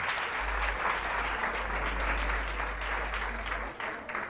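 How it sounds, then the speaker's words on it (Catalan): Studio audience applause on a local television word game show, a steady dense wash of clapping sustained for about four seconds before easing slightly at the end. "Aplaudiment pel Martín."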